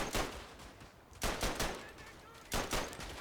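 Bursts of rifle and machine-gun fire in the World War I shooter Verdun, sharp cracks in uneven clusters with quieter gaps between, close and punchy.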